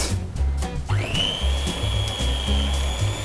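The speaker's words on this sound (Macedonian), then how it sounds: "за да нема гручиња, ќе го измешаме со миксер" An electric hand mixer whips cream for a grillage cake, a steady whine rising at the start and holding at an even pitch, loud and close, with faint voices talking in the background.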